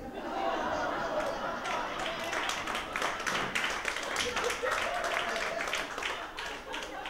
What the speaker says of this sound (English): There's some really angry women clapping at that